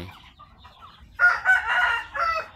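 A young rooster crows loudly and close by, its strained, ragged call following a few softer clucks and rustles.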